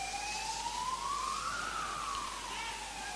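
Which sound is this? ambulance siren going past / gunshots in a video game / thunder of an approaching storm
ambulance siren going past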